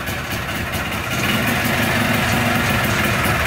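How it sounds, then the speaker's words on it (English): KTM 500 motorcycle engine started on the electric starter, catching after a short crank and settling into a loud, steady idle close by. "And the electric start works"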